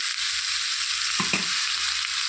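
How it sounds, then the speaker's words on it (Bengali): Cauliflower and potatoes fry with salt and turmeric in a pan for a paneer curry. A loud, steady sizzle runs throughout, with a brief stirring scrape near the middle and no voices. "নুন হলুদ দিয়ে ফুলকপি আর আলুগুলোকে আমি একটু খুব ভালো করে ভেজে নেব"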